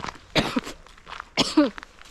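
A woman coughs twice in short, harsh bursts, the second with a raspy throat-clearing edge, close to the microphone in a quiet outdoor setting near ponds in a national park.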